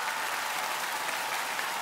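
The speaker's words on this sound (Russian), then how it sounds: "Ваши аплодисменты." Dense, steady applause from a TV studio audience fills the whole short stretch, loud and even with no break.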